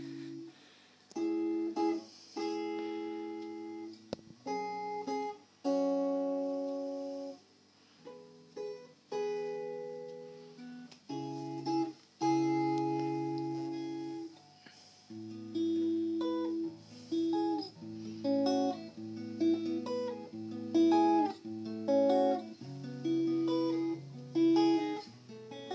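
Clean electric guitar played through a vintage two-stroke amplifier with no effects, bright plucked notes and chords ringing out in phrases with short pauses, loud and close with no voices.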